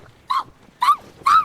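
A dog in a Space Brothers anime episode gives three short, clear barks spaced about half a second apart, with no other sound around them.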